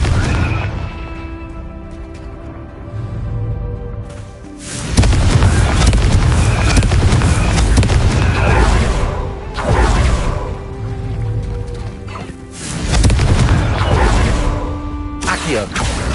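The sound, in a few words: Confringo blasting curse explosion, from a video game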